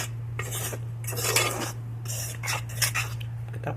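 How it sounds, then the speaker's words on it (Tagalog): Utensil scraping and clinking against a bowl while hot cake batter of flour, sugar, baking powder and vanilla is mixed, a steady run of scratchy strokes with no talk. "So, halo lang natin."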